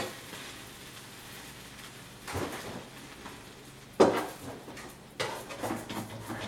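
Bread with cheese and a hot dog fries in a pan, a soft continuous sizzle broken by three louder bursts of clattering and scraping.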